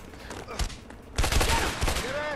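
Rapid bursts of gunfire in the video game A Way Out sound as a crackling fusillade of overlapping shots, quieter at first and then louder and denser.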